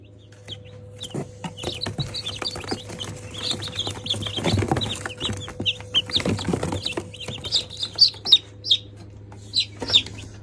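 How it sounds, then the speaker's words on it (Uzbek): Sixteen young chicks under a heat lamp peep in bursts of high, thin chirps, growing more frequent toward the end, over a steady low electrical hum. "16 ta jo'jani."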